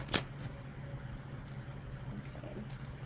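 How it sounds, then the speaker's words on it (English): A tarot card deck being shuffled, a sharp riffle burst at the start followed by a few lighter card flicks over a low steady hum, close and fairly quiet, with no talking. "I'm going to do one more shuffle"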